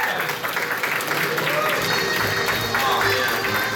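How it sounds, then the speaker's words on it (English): Convention quiz-show audience gives a contestant a round of applause, a busy, fairly close burst of clapping with some cheering and talk mixed in, holding steady throughout. "Let's give him a round of applause though,"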